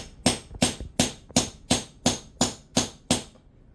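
Nine sharp metallic hammer strikes ring out in a steady, even rhythm, each blow close and crisp with a brief ringing decay.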